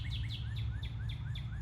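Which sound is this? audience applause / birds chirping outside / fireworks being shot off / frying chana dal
birds chirping outside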